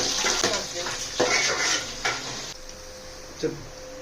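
Onion pieces fry in a pan for a korameenu fish curry amid a soft sizzle, with close clinks and scrapes of a utensil against the pan at irregular intervals.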